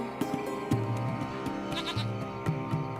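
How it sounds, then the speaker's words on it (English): A small goat bleats several times in short wavering calls, moderately close, against a faint steady background hum. "It's a small goat."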